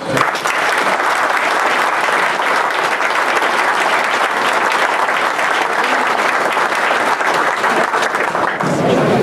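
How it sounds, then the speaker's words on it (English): Audience at a county freeholder reorganization meeting breaks into loud, continuous applause for county employees, a dense, even roar of clapping that holds steady before cutting off near the end. "I think we owe a round of applause to these employees"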